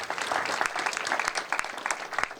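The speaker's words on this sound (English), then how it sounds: "Give them a big round of applause." A crowd at the reopening of a state fair coliseum gives a round of applause, with bright, uneven claps and sharp individual hits popping out of the steady clatter.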